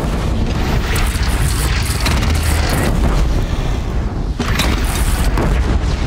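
Cannon fire in the video game Horizon Zero Dawn: loud, dense, rumbling booms and blasts roll continuously, close and heavy, with no clear gaps.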